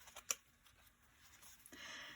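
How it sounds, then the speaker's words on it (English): A deck of tarot cards is shuffled once, close and quiet: a few soft clicks and a sharp snap, then a brief papery riffle near the end. "I'm going to shuffle one time here, Capricorn."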